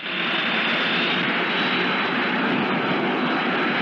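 An airplane engine roars as the plane comes down fast, a loud, steady, unbroken drone with no voices.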